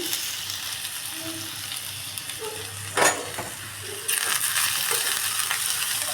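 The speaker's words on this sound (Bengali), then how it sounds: "পেঁয়াজ কুচিটা সুন্দর করে ভেজে নেব" Chopped onion fries in hot white oil in a wok, a dense continuous sizzle up close with a brief stirring scrape midway, after which the frying grows louder and brighter, with no talking.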